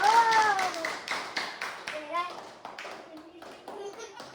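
Children clap together in a classroom, a short burst of rhythmic, near hand claps that breaks into scattered claps, with kids' voices chattering and calling out over them.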